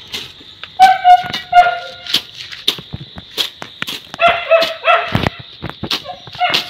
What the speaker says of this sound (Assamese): কুকুৰটো ইয়াত চিঞৰি আছে ঘৰটোত